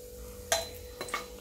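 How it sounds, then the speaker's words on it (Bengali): Whole spices, bay leaf, cardamom, cinnamon, cloves and peppercorns, lightly frying in oil in a pan. A steady faint sizzle with a few sharp clinks of a utensil against the pan. "এটাকে একটু হালকা ভাজা করে নিলাম।"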